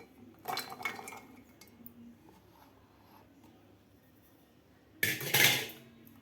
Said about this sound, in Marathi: आता आपल्याला हे एका मिक्सरच्या भांड्यात घालून घ्यायचे आहेत